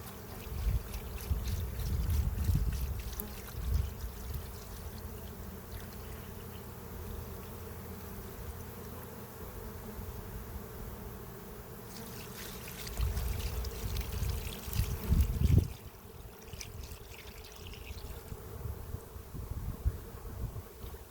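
A steady, low buzz of many bees droning together, with a few louder swells where the swarm grows more active.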